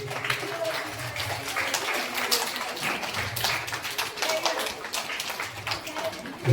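At a Kerala primary school's entrance-day ceremony, as the panchayat president lights the lamp, a crowd gives scattered, light clapping that keeps on steadily under a voice speaking over a loudspeaker.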